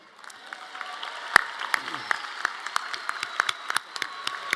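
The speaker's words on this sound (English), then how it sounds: "Let's give a round of applause to Mary Alice Demler." Scattered clapping builds into steady applause from a small crowd at a college commencement ceremony, with sharp individual claps standing out; a voice is faintly heard at first.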